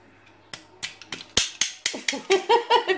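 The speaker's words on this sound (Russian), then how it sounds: "Еще в ложки можно бить." Two wooden spoons from a Chinese-style set are knocked together, a series of about a dozen crisp, hollow clacks that start sparse and quicken into a close, fairly loud rhythmic pattern.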